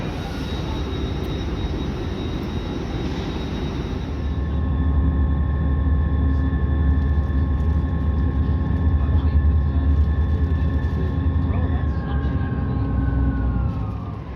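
Train interior on the Northern service toward Haymarket, Edinburgh: a steady, loud rumbling drone with tonal motor whine that rises in strength partway through and holds, continuous with no speech.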